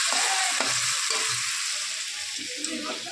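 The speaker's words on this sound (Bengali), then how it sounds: "দেখো বৌদি ভাজছে লুচি" Luchi, puffed Bengali flatbread, frying in hot oil in a pan during a home festival meal, giving a steady close hissing sizzle with faint bubbling and light utensil touches, no talking.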